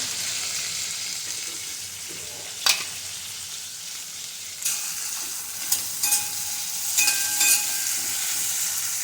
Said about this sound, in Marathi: मी टोमॅटो चांगले लावून परतून घ्यायचं थोडंसं मीठ टाकायचं म्हणजे लवकर टोमॅटो मऊ होत आहे